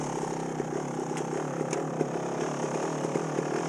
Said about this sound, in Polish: Ten motor się w ogóle nie męczy.